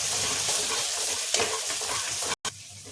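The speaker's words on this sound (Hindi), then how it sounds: "ये देखिए अब सब मसाले इसी में डालेंगे। तो थोड़ा से भून लेंगे" Spices fry for a broken egg gravy, a dense, steady sizzle with scraping stirs in the pan. Close and loud throughout, with one very brief dropout near the end.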